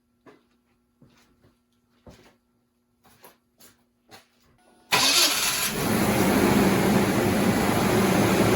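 A truck engine cranks and catches after several faint clicks and knocks, then settles into a loud, steady running roar that fills the rest of the clip.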